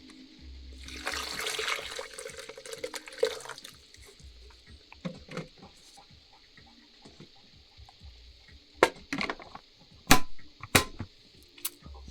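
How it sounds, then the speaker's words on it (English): Hot water, 500 grams of it, is poured into a Vitamix A3500i blender jar in a splashing burst of a couple of seconds. Scattered clinks and sharp knocks of handling follow. "I just pour what the amount of water here like this"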